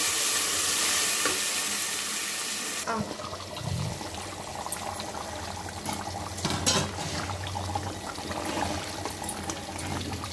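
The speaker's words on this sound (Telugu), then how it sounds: "తక్కువ తీసుకుని మంచిగా వేగనివ్వాలి" Masala spices for chicken curry frying in hot oil, a steady loud sizzle that softens after a few seconds while stirring scrapes and clinks continue throughout.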